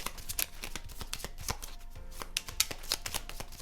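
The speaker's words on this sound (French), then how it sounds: "je vais tirer une carte supplémentaire" Tarot cards are shuffled by hand before an extra card is drawn, a close, crisp run of papery slaps and flicks in an irregular rhythm.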